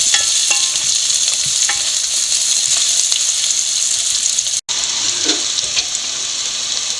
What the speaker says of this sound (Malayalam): ഇനി നമുക്ക് ഈ ഇഞ്ചിയും വെളുത്തുള്ളിയും കൂടെ ഇട്ട് കൊടുക്കാം നല്ലപോലെ വഴറ്റുക